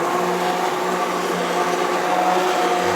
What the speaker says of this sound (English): You're gonna pick it on up, put your blender back in.